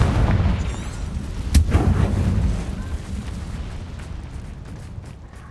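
The Confringo blast spell explodes in Hogwarts Legacy during a fight in the woods, a sharp booming burst near the middle followed by crackling debris and a fading rumble, after heavy low rumbling from the start.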